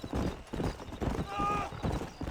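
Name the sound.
horse hooves galloping in video game Red Dead Redemption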